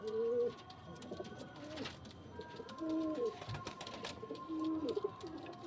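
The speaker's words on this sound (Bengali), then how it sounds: "এটা ছিল মাদি পায়রাটা" Pigeons in a home loft coo repeatedly in low, throaty phrases, several overlapping birds close by, with faint chirps and room noise between calls.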